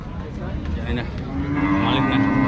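A cow moos nearby at a cattle market, a low drawn-out bellow rising toward the end, with faint background murmur of people.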